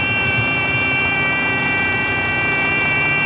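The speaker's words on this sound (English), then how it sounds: "Once the siren goes off, the air pressure will be building back up." A truck's low air pressure warning siren sounds as a steady, loud, continuous tone with engine rumble underneath, unbroken throughout.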